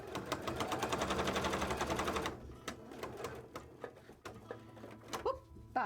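A sewing machine stitches fabric scales in a fast, steady mechanical rattle for about two seconds, then stops, leaving scattered handling clicks and taps.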